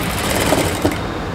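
Sewing machine stitching blouse fabric, a loud close steady mechanical whir with a rapid needle chatter, running continuously on its own.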